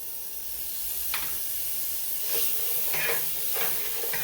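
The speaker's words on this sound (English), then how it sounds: "And I'm going to let this saute like for another 60 seconds." A heaping teaspoon of minced garlic sautes in a pan for fried rice, a steady soft sizzle and hiss with a few brief stirring scrapes, close by and without talk.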